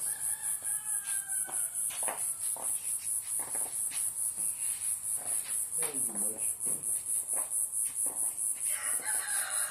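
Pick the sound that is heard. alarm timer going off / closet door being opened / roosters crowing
roosters crowing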